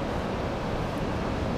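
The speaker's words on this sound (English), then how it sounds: "So I'm looking at these waves out here" Ocean waves breaking on a shore make a steady, dense rushing roar that fills the short stretch evenly, with no voices and no distinct individual crashes standing out.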